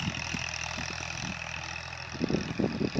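A Massey 1035 tractor pulls a harrow across a field, its engine giving a low, steady rumble at moderate distance. Louder knocking bursts break through near the end.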